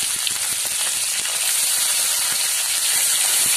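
Onion paste hits hot oil with cinnamon sticks, cardamom pods and whole peppercorns while cooking egg korma: a loud, steady, hissing sizzle that fills the moment with no let-up and no talking.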